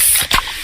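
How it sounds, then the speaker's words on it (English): A can of Pepsi cracks open with a short sharp hiss of escaping fizz, heard over a steady broadband background. "that's the sound of a freshly opened fizz-filled Pepsi"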